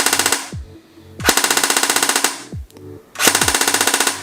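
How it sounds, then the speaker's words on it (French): A Tokyo Marui MP7A1 electric airsoft pistol, a largely polymer replica, firing three full-auto bursts, each a fast buzzing rattle of shots about a second long, with short mechanical clicks in the gaps between bursts. "ça fait pas mal de bruit, je vous l'accorde, mais bon, on a une réplique avec beaucoup de polymère"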